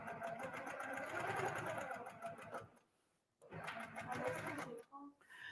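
A Quiltmaker Pro 20 sewing machine free-motion quilting runs in fast, steady bursts, pausing briefly in the middle and again near the end, close and fairly loud.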